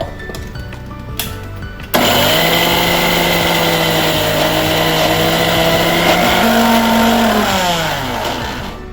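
A mixer grinder whirs loudly as it grinds coconut with chili powder. The motor whine starts abruptly, runs steadily for several seconds and then slows and softens toward the end.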